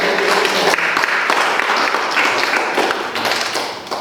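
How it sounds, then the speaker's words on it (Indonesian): Classroom applause for a student named Rama during an Islamic studies lesson, a burst of dense clapping from children that fills the room, loud and steady before tapering slightly at the end. "Tepuk tangan buat Rama."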